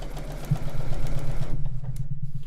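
A sewing machine stitches a seam on a mosaic star quilt block, a close steady mechanical hum and rhythmic whir that cuts off after about a second and a half.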